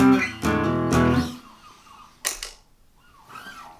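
Dry electric guitar with no Klon clone overdrive: a few bright, ringing strummed chords in quick succession that decay into quieter, softer picked notes, with a short sharp pluck near the end.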